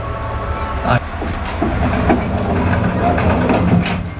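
Rumbling ride aboard the Polar Express themed passenger train out of Chicago Union Station, with wheel clatter and knocks over a steady low drone, while people's voices murmur in the carriage.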